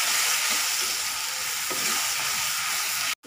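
Ground onion with garam masala sizzles and fries in a pan for kachori filling, a loud, close, continuous hiss with faint stirring scrapes, cutting out abruptly near the end.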